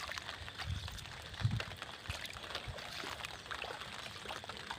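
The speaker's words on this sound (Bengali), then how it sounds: "পানি সবগুলো এই যে লাইন দিয়ে আবার নেমে যাচ্ছে" Rainwater after several days of rain drains through channels in a farm field, a faint steady trickle and pour with soft splashy bursts, quiet and continuous.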